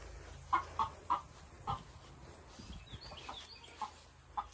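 Newly arrived farm hens cluck in short, separate bursts, several close clucks at an uneven pace, over a quiet outdoor background.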